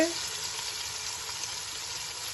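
Onions sizzle steadily in a hot pan, a constant close frying hiss with a little water added, cooking down as the base for mattar pulao.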